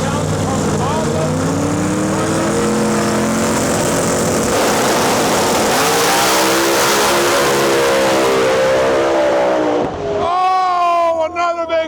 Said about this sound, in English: Oh no, that is an engine.